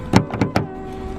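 A 2022 Honda Accord Sport 1.5T locking: a few quick mechanical clunks and a short electric whir in close succession, followed by a faint steady hum.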